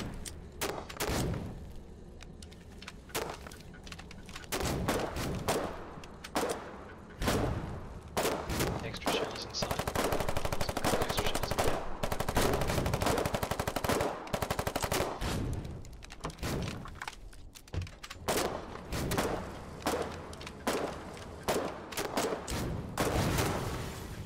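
Gunfire in the Foxhole video game, with repeated loud shots and machine-gun bursts, some dense stretches and some scattered, while players talk over the noise.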